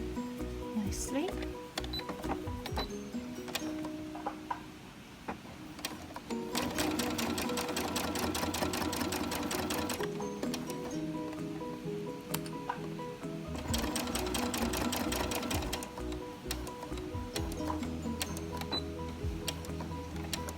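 A sewing machine stitches fabric in two long continuous runs of rapid, steady needle chatter, loud and close, separated by quieter stretches where a person talks.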